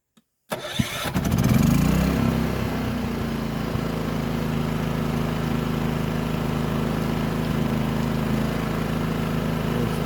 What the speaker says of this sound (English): Pretty quiet for a generator,